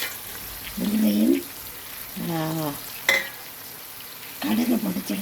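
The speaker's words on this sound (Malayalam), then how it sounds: "നന്നായി തിളയ്ക്കുന്നുണ്ട്." A mango pickle mixture with mango brine, fenugreek and crushed mustard bubbles in a pan as a steady, faint sizzling hiss, broken by a few short voiced sounds.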